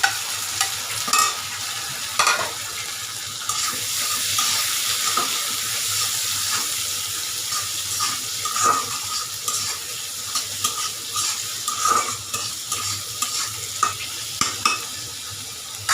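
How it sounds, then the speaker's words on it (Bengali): Tomatoes and chopped green chillies are stir-fried with softened, lightly browned onions for a fish bhuna. A continuous moderate sizzle runs throughout, punctuated by regular scraping stir strokes, with no voices. "এখন দিয়ে দেবো এখানে আমি এই যে টমেটো"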